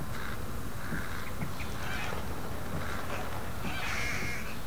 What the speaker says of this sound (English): Sudden movements near birds will alert them.